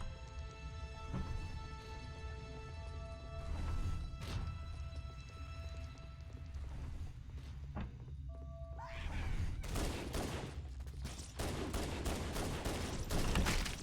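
Pistol fire from Halo: Combat Evolved, a burst of sharp game gunshots with booming impacts, loudest near the end and over a continuous game soundtrack.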